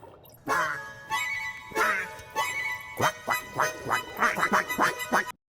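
Ducks in the game Subnautica quacking in a rapid, overlapping chorus, close and clear, the calls sparse at first and then packed into a fast, rhythmic run before cutting off abruptly.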